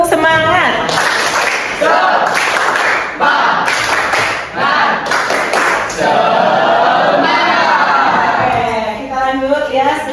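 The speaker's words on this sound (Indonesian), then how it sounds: "Sebelum mengerjakan post test, kita tepuk semangat dulu ya." A classroom of students performs the tepuk semangat spirit clap chant, rhythmic bursts of group clapping and thumping mixed with shouted voices, loud and close, continuing in waves with brief pauses throughout.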